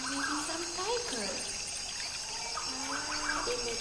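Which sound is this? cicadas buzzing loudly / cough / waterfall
waterfall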